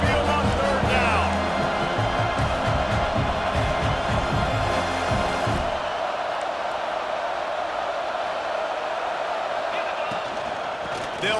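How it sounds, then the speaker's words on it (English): Stadium crowd noise from the College Football 26 video game fills the background as a broad, steady roar, while a commentator talks over it throughout and a heavy rhythmic thumping sits under the first half. "The Tide crowd rolling noise down onto Saban Field on 3rd down."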